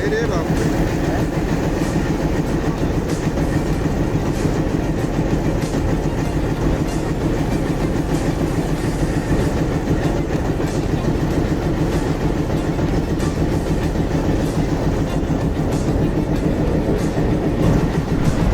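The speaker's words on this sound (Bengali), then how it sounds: "মহানন্দা ট্রেন আসছে চাপাই থেকে।" The Mahananda train from Chapai pulls into a crowded railway station, a loud, continuous rumble with rhythmic wheel clatter and metallic rattling that goes on steadily throughout.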